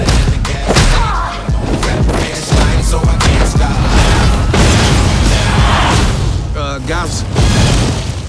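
Heavy booms, thuds and crashing impacts from a tank in action during a Fast & Furious 6 car chase, loud and dense, layered with trailer music and bursts of effects.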